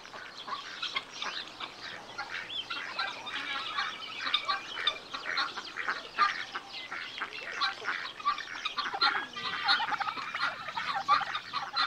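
Two male turkeys gobble at each other in a farmyard rivalry, with rapid, overlapping gobbling bursts repeating close by over a busy barnyard background.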